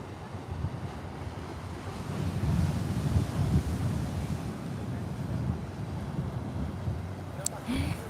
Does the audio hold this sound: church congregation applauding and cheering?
no